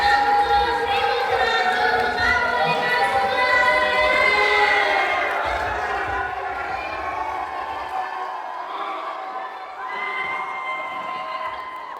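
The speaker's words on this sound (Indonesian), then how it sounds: "mari kita beri tepuk tangan untuk teman-teman semua dari SMA 17" High school students in a crowded hall at an anti-violence and anti-drug outreach session cheer and shout loudly in a sustained, dense roar, children's voices whooping together for several seconds before gradually easing.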